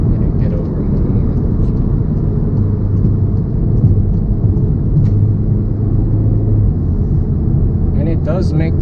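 Engine of a Volkswagen MK7 Golf R set to race mode, a steady low rumble and drone from inside the cabin that holds throughout while driving on the road.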